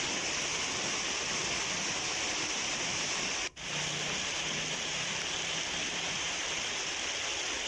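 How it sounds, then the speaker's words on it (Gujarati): Heavy monsoon rain on the streets of Surat, a dense, steady hiss of downpour that runs throughout with one brief dropout in the middle, no voices. "સુરતમાં વહેલી સવારથી જ ધોધમાર વરસાદ વરસી રહ્યો છે"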